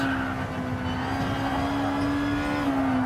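A 2016 Nissan GT-R Gr.2 race car at Suzuka in Gran Turismo Sport, its engine held under throttle with lots of boost, a loud, steady, high-revving drone that climbs slightly in pitch.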